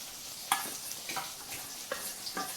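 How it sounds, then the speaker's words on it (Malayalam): Steady sizzling from a hot pan as fried prawns are stirred into masala, with several scraping stirs of a spatula, close and moderately loud, no voices. "നമ്മളിതിലേക്ക് വറുത്ത് വെച്ച ചെമ്മീൻ ചേർത്ത് കൊടുക്കണം കേട്ടോ"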